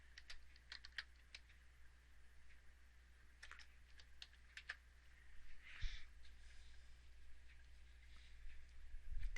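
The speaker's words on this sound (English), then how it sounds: "So I'm going to type in the CAPTCHA." Light, irregular keystrokes on a computer keyboard, soft and close, as a CAPTCHA code is entered, tapping in short bursts over a faint steady hum with no voices.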